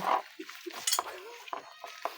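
Spoons, a ladle and plates clink and clatter during dishwashing, a few short separate knocks and rattles with quiet gaps between them.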